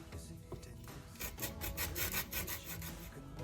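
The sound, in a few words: grating a clementine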